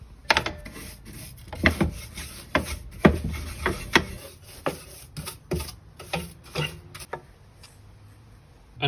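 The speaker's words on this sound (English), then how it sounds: "I'm going to brush it all down and wipe it all over" An old drop saw, long left unused in a shed, is brushed clean of dust and wood, producing close, repeated scratchy bristle strokes in an uneven rhythm.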